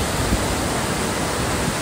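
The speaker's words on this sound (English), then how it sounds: "Waterfall is emptying out into that bay." A waterfall empties into a bay in Alaska, heard as a constant, even rush of water with no breaks or other sounds.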